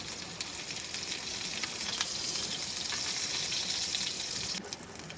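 Ginger, chili, capsicum, carrot and cabbage fry together for a noodle soup at a rainy campsite, a dense, continuous sizzle close by with a faint crackle throughout, and no talking.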